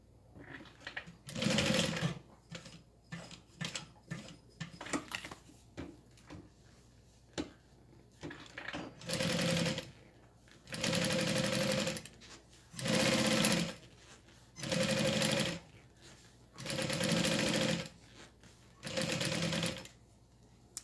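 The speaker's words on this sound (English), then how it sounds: "So we're gonna just fold it one more time, sew everything together." Sewing machine stitching through folded fabric, running in repeated bursts of about a second each with short pauses between, after a stretch of lighter handling clicks and fabric rustle; close and clear.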